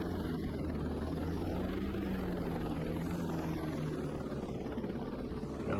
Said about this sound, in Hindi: यहाँ पे उतर निकल जाएगा हेलीकॉप्टर।